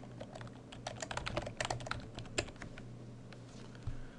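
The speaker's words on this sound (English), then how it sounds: "I'll type some text." Quiet, close tapping on a computer keyboard, an irregular patter of keystrokes with a faint steady hum beneath, no voices.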